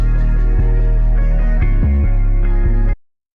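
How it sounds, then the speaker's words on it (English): A short Cymatics Serenity guitar sample plays a few plucked notes in a loose melodic phrase, clear and upfront, then cuts off abruptly into silence. "Which is a Serenity guitar sample from Cymatics."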